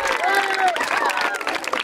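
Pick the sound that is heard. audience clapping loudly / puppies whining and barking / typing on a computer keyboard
audience clapping loudly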